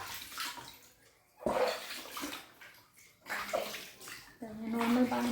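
Water splashes and sloshes in a big tub during washing, coming in several loud bursts with pauses between them, while a voice is faintly heard in the background.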